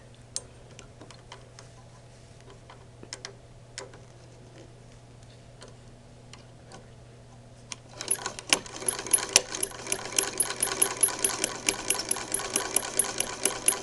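Older Singer Model 20 sewing machine set to its longest stitch length, sewing quilting cotton: faint ticking at first, then a steady, rapid mechanical clatter of stitching close by for the last several seconds.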